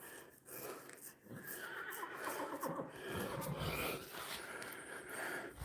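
A horse in a waterlogged corral lets out repeated loud whinnies and snorts that carry over the surrounding outdoor noise, with no one talking.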